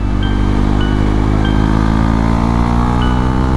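A Husqvarna Svartpilen 401 motorcycle rides on a chilly, windy night, its engine holding a steady, loud drone under a constant rush of wind, with no talking.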